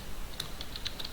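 Soft, scattered key clicks from typing on a computer keyboard, a handful of light taps in an irregular rhythm over a quiet room hum, close and fairly faint.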